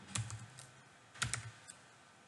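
A terminal command is typed on a computer keyboard in Ubuntu Linux, two short quiet bursts of a few crisp key clicks separated by a pause, then a single late tap.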